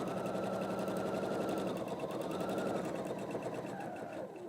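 A sewing machine stitches steadily with a rapid, even mechanical whir, running close and continuous with a slight slowing near the end.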